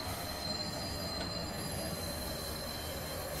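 Trains rolling on rails in the Roblox game Terminal Railways, a sustained high wheel squeal over a steady rumbling roll, continuous and fairly loud, with no talk.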